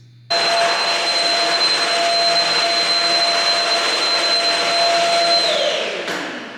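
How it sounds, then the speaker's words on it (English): A household hoover vacuum cleaner switches on abruptly with a loud, steady whooshing whine, holds for several seconds, then starts to wind down near the end. "I think the hoover is actually upstairs"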